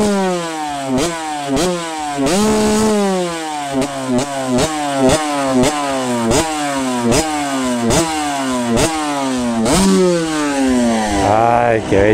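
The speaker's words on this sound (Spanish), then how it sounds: "nos puedes prender tu moto para escucharla." A Suzuki RM motocross motorcycle engine revs hard again and again at a dirt racing event, close and loud, each blip rising and falling in quick repeated bursts.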